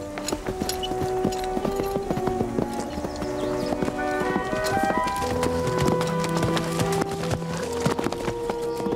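Steady clip-clop of horse hooves over layered music with sustained tones, the hoofbeats repeating continuously throughout.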